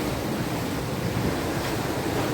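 Steady roar of seawater surging into a cave in Diu, with churning waves and wind buffeting the microphone, continuous and loud throughout with no voices.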